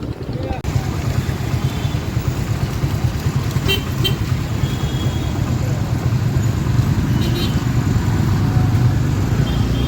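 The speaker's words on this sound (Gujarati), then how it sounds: "ખંભાળિયામાં જોરદાર ટ્રાફિક પાછી હોય" Heavy road traffic in Khambhalia town near the clock tower, a dense continuous roar of engines with occasional horn toots, loud and close, with a person talking over it.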